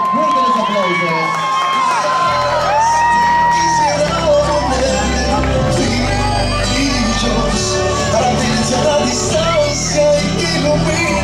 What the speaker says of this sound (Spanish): Que se escuche un fuerte los aplausos para Braya López